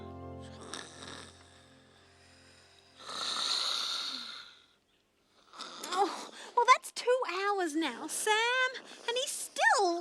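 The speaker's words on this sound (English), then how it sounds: "I suppose his snoring is a bit loud." Snoring rattles through for a few seconds, followed by a pause and then bursts of squeaky, chattering voices.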